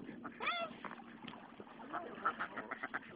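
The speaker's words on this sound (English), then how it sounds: "we're up at Bass Lake feeding the ducks." Ducks quack at a lake while being fed, a scattered run of nasal calls over faint outdoor background noise, moderately close and quiet.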